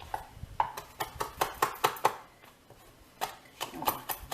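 Knife finely chopping fresh parsley leaves for meatballs on a cutting board, a quick run of crisp, close taps in two bursts separated by a short pause.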